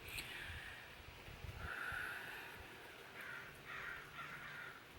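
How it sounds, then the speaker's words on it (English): Crows and ravens caw several times at a distance, faint and scattered over quiet outdoor background noise. "You hear the crows and the ravens?"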